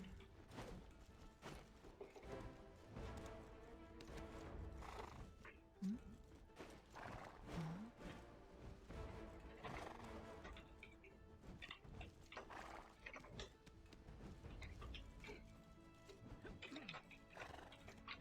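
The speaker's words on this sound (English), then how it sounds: "This little horse." A horse in the online game Black Desert Online clip-clops in steady hoofbeats, with brief neighs, all faint and low in the mix, with speech heard at moments.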